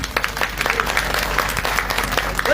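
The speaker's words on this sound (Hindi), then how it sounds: "एक बार दोनों हाथ की ताली मेरे बाबा के नाम पर।" Audience applause at a live devotional Khatu Shyam kirtan in Jhampur, a steady wash of many hands clapping together, fairly loud and continuous with no pauses.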